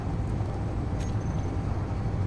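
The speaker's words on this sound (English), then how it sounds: "That sounds a bit more like a car. Rover thing." Car-like rover in the video game Space Engineers, a steady low engine drone with a constant hum that neither rises nor falls, heard alone and fairly quiet.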